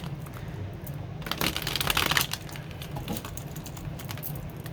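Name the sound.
shuffling and drawing tarot cards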